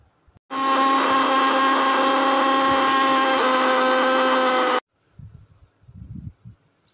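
Electric mixer grinder whirring loudly as it grinds green chillies and dried red chillies into a paste, a steady motor drone of about four seconds that cuts off abruptly, followed by faint clatter and handling noises.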